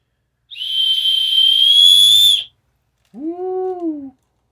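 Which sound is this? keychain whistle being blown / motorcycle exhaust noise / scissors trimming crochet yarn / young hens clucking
keychain whistle being blown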